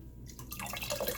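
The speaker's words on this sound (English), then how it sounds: "I'm just gonna dip this down in there, get it all fully saturated with water" Wool dipped and saturated in soapy water, producing brief soft watery sloshes and trickling drips at close range, fairly quiet, with no talking.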